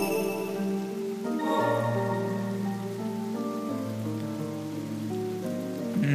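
Steady rain patter in the video game Ender Lilies: Quietus of the Knights, layered with sustained tonal game music notes; no voices, constant and fairly loud throughout.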